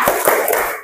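A classroom group does a rhythmic spirit clap, a quick burst of a few sharp, close hand claps in a short pattern.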